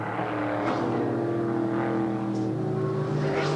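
A 1987 Gerni sports sedan race car runs at Amaroo Park Raceway in New South Wales. A single engine drones steadily, its pitch shifting gradually as the car passes over a hill and into the next corner.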